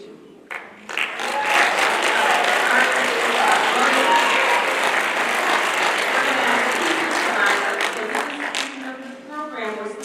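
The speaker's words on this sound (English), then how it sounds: "we ask the parents to give them a round of applause" Parents in a school hall give a sustained round of applause as teachers arrive at an awards night. The dense clapping swells quickly, holds steady for several seconds, then thins out near the end.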